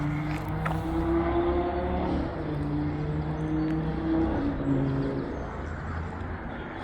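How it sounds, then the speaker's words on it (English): Cars racing on a track at Elvington Air Base, heard from beyond a fence as a steady, moderately loud engine drone with shifting tones, distant and continuous. "You can probably hear cars to the side of here. That's because there's a track down at Elvington Air Base"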